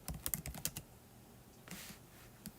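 Rapid bursts of keystrokes on a computer keyboard rattle in the first second, then a few scattered clacks follow over a quiet room hum, with no voices.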